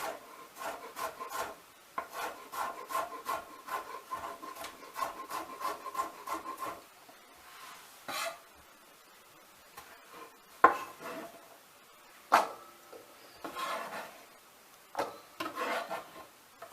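Knife chopping cucumbers and zucchini on a board for sweet pickle relish, a quick run of repeated crisp cuts followed by sparser, irregular knocks and scrapes, close and alone with no talking.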